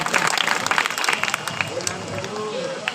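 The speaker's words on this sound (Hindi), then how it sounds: "एक बार जोरदार ताली हो जाओ नान अम्मा की सेवा के लिए" An audience at a village storytelling event claps together, with dense, uneven applause loudest at first before thinning out, and murmuring voices underneath.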